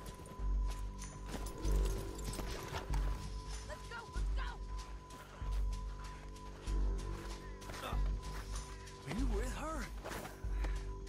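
A horse's hooves clop along at a steady gallop in Red Dead Redemption 2, rhythmic and close, with bridle jingles and voices talking over the ride.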